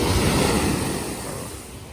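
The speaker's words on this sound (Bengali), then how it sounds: "পানির ঢেউটা অসাধারণ আর কি" Sea waves at Teluk Bahang Beach, Penang, surge in a single loud wash of surf that slowly fades, blended with wind on the microphone during rainy weather.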